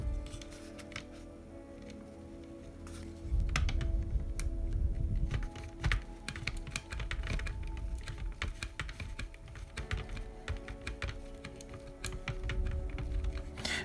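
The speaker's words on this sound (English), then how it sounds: "And we're going to screw it in." A small screw is driven into the soft plastic side guard of a Tamiya 2024 Hornet EVO radio-controlled car kit, giving quiet, irregular creaks and clicks from close by.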